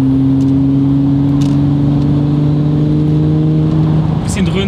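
An Audi RS4 on the move gives off a loud, steady low engine drone with a constant pitch, heard from inside the car, with a slight shift in tone near the end.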